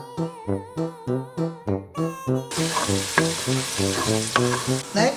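Ginger sautéing in cooking oil for chicken gizzard bopis: a steady, moderately loud sizzle takes over partway through, with rhythmic tonal music playing throughout.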